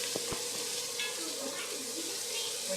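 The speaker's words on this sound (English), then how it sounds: "We just want to brown this until our onions are translucent and the garlic is lightly browned and cooked" Onions and garlic browning in a pan for a meatball sauce give a steady, dense sizzle throughout, with a couple of faint clicks near the start and light stirring noise underneath.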